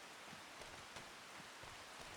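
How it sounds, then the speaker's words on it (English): Heavy rain in the Farming Simulator 25 video game falls as a steady, even hiss, faint and continuous, with no voices over it. "the rain is coming down hard, so we can't put any seed in at the minute anyway"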